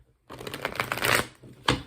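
Tarot cards being shuffled close up: a quick riffling burst of papery flutters lasting about a second, followed by a brief pause and one more sharp snap of cards.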